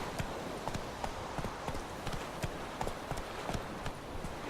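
Horse hooves galloping in the video game The Witcher: Wild Hunt, a rapid, regular clip-clop of hoofbeats over a dense background of game noise, close and continuous.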